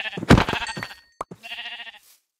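Sheep bleat in a blocky Minecraft-style video game, two clear, close bleats separated by a short pause, with a faint click between them.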